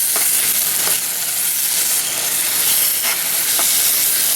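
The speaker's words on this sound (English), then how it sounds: "you want to make sure you stir them in really well." Sliced chili peppers are stirred into meat frying in a pan, a loud, steady sizzle close up, punctuated by a few soft scrapes from the stirring spoon.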